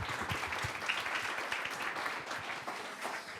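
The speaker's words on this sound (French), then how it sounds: "On va déjà vous applaudir." Fairly faint applause from an audience at a talk on exporting and doing business internationally, a soft continuous patter of many hands clapping without a break.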